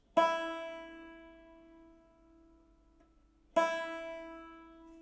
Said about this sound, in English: the 1st string should sound like this.